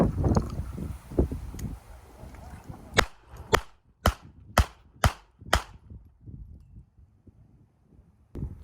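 Five sharp, loud pistol shots from a Beretta 3032 Tomcat at an outdoor range fire in quick, even succession, preceded by background noise and followed by near quiet and one faint distant pop.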